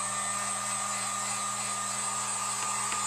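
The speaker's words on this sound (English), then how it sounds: "I'm just gonna dry this a little bit with my heat gun" A Harbor Freight heat gun blows continuously at close range, drying paint on a decorated wood owl cutout, a steady airy whir with a constant motor hum.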